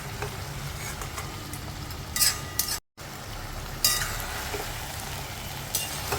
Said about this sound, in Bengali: আস্তে আস্তে তলাগুলো উপরে, উপরেগুলো নিচে এভাবে দিতে হবে, যাতে সবটাই সুন্দরভাবে মিষ্টি পাবে।